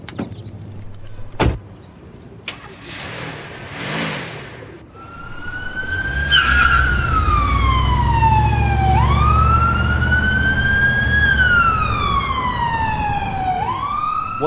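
Ambulance siren wailing in long rising and falling sweeps that build in strength and stay loud and near, preceded by a sharp knock and a brief motor whir.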